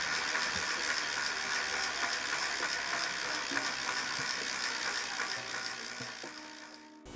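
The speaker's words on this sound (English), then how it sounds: "This is the free hub clicking perfectly." Freehub of a restored 1919 WW1-era bicycle clicking as the wheel spins, a fine continuous ratcheting rattle at moderate level that slows and stops near the end.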